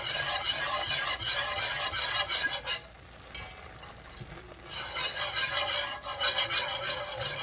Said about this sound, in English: Whisking continuously.